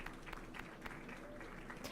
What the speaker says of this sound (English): We're just gonna clap for that one.